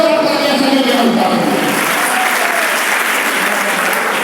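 Enthusiastic applause from an audience at a school Independence Day prize distribution, loud and close at first, then settling into a steady, slightly softer roar of clapping, with a voice briefly heard at the start.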